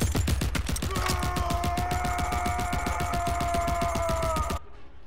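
Rambo's guns-blazing outro in Mortal Kombat 11, a rapid unbroken burst of machine-gun fire with a ringing metallic tone, loud and alone, cutting off abruptly near the end.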